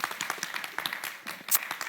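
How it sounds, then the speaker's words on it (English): Audience clapping for a guest on a Ghanaian breakfast television show, a brief burst of scattered hands applauding in a studio, uneven and moderately loud. "Clap for him"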